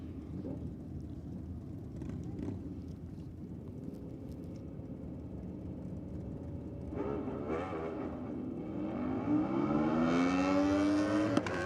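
A drag racing car fitted with wheelie bars at a bike night event, engine rumbling faintly at a distance before a rising, strained roar as it launches off the line and pulls away.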